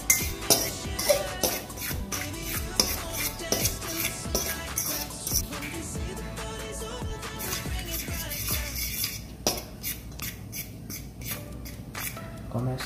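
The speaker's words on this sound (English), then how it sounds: "I'm using a fork over here to mix this" A fork scraping and tapping against a bowl while mixing dry chocolate cake ingredients with cocoa powder, a dense run of quick, close scratchy strokes and light clinks with no voices.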